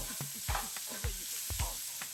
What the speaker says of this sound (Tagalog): Next, ang shiitake mushroom. Stir well.